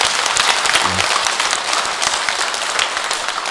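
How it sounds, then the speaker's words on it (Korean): Congregation at a Catholic brotherhood mass marking its 22nd anniversary applauds together: a steady, dense wash of many hands clapping at once, close and fairly loud, with no speech over it. "우리 서로 자축하는 의미로 우리 서로 격려의 박수"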